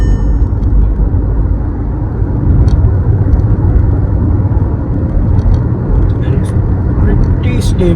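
A 2023 Skoda Slavia 1.0 TSI drives along with a steady engine hum and low road rumble from inside the cabin, under light background sounds.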